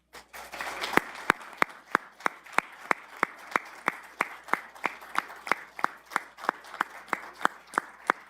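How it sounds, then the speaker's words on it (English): A single person's sharp, evenly spaced hand claps ring out about three times per second at a county commission meeting, sounding like one person clapping alone rather than a crowd. "please join the commission in giving Miss Cristina Tina de la Torre"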